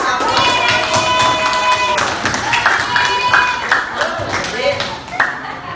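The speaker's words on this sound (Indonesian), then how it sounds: "Kita kasih aplaus." Students in an Indonesian classroom give a round of applause for top quiz scorers, scattered claps and taps mixed with chatter and a teacher's voice throughout.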